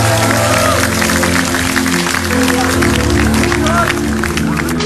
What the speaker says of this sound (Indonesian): Tepuk tangan yang keras untuk Dimas.